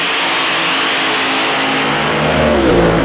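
A late-model 426 drag race car engine revs hard and loud on the track, a dense roaring blare rising in pitch toward the end as it accelerates.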